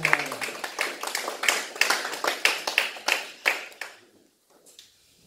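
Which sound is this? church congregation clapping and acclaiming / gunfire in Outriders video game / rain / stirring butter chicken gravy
church congregation clapping and acclaiming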